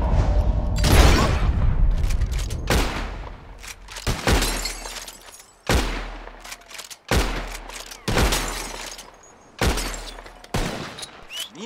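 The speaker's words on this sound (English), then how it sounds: "Whoever shoots more of these bottles wins." In the Red Dead Redemption 2 video game, a bottle-shooting contest produces a loud fusillade of gunshots, each sharp crack ringing out with a crash of breaking glass, spaced about every one to two seconds in a steady, close series.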